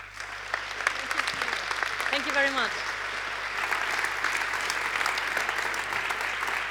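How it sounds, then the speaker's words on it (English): Steady applause from an audience fills the space, even and sustained, with a brief voice rising over it early on. "That's your applause."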